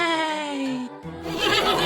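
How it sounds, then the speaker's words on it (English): A horse neighs in a loud, close whinny with a falling, quavering pitch, breaking off briefly before a rougher, breathy snort-like tail follows. "Can you neigh like a horse?"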